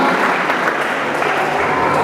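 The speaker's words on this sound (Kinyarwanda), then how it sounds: "Imana ikomere amashyi cyane." Steady, loud applause from a church congregation, a dense wash of clapping that continues unbroken throughout without any pause.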